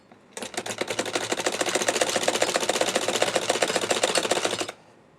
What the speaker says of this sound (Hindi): जब तक मैं ये पट्टी स्टिच कर रही हूँ